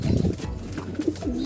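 Breeding pigeons in a loft give soft, repeated low coos close by, steady and continuous with little pause.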